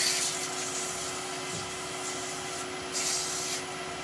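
A turned wooden Christmas tree edge is hand sanded with 240-grit abrasive, a steady close rubbing hiss that runs continuously with slight swells in intensity.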